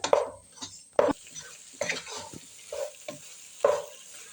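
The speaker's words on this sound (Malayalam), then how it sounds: "ഇനി നമുക്ക് മക്രോണി പാസ്ത നല്ലപോലെ വഴറ്റിയെടുത്തതിന് ശേഷം" Macaroni pasta being sautéed in a pan for macaroni masala, with a spoon stirring and scraping in repeated bursts over a soft, steady sizzle, close and fairly quiet with no talking.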